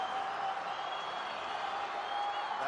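Steady crowd noise from rugby spectators at a Pacific Games 2023 match between Solomon Islands and New Caledonia, a dense continuous roar of cheering and applause held at even loudness throughout.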